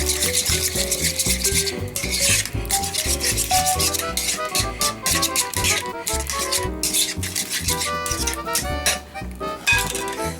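A spoon scrapes and clinks steadily against a bowl as tartar sauce is stirred together with diced roasted peppers and a squeeze of lemon. The stirring is close up and continuous, with little talk.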